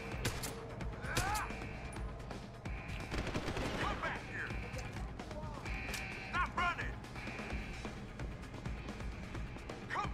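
Repeated pistol shots in the video game Deus Ex Human Revolution crack out at uneven intervals over a busy backdrop of game music and effects, with snatches of voices.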